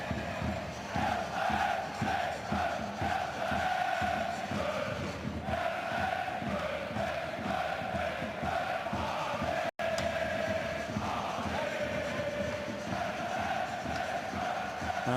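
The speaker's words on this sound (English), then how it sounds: "a small stadium and a passionate home crowd cheering on SV Wehen-Wiesbaden" Passionate home crowd at a small stadium cheering on SV Wehen-Wiesbaden against 1. FC Cologne in a DFB-Pokal first-round football match, a sustained dense roar of voices and chanting that fills the air, distant and steady throughout.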